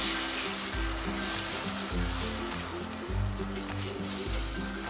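Crushed tomatoes sizzle steadily in a hot pan while being stirred for Punjabi chole, a close, continuous frying hiss with soft low scraping swells every second or so, no talking.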